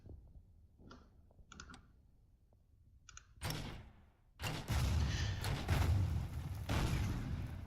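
Heavy infantry mortar fire in the wartime strategy game Order of Battle: Blitzkrieg follows a few faint interface clicks, with sudden loud blasts and a sustained rumbling barrage.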